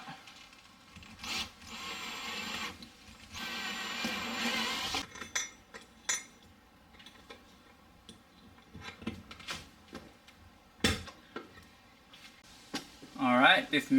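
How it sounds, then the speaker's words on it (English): Two short bursts of a power drill boring into wood to pre-drill a mount hole for a water sediment pre-filter, then assorted knocks and rubbing sounds from handling tools up close. "Pre-drill the hole for the other mount."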